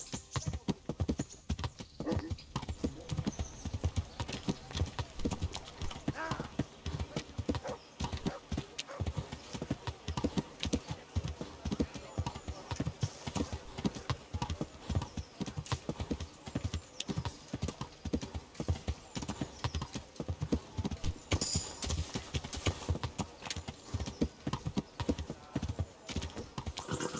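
Horse hooves clip-clopping in the medieval video game Kingdom Come: Deliverance, a steady brisk rhythm of close hoof strikes continuing throughout, with faint background game ambience.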